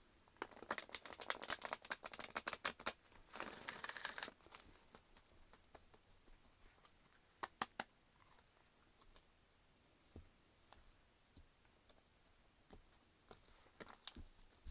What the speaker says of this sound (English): All right, one more good shuffle.